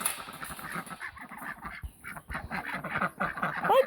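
Ducks in a backyard garden flock quack in a busy, overlapping chatter of short nasal calls, close and fairly loud throughout with no voices.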